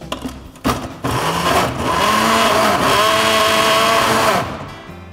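A blender whirs loudly and steadily for several seconds, chopping shallots and garlic, after a few short bumps and clatters at the start, then cuts off near the end.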